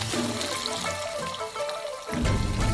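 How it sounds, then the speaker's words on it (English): Water runs into a frying pan holding black beans with a continuous splashing pour that hisses over hot contents, then swells into a louder, fuller gush near the end. "And then fill it with water."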